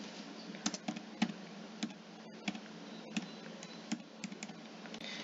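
Rapid clacking of a computer keyboard as a Minecraft command is typed in, with steady, closely spaced keystrokes and occasional louder taps, close and alone with no talking.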